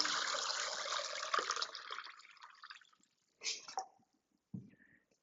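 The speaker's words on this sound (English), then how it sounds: "Then I add water." Water pours into an Instant Pot holding glass bottles, a close, steady splashing stream that fades away, followed by a few faint drips and clinks.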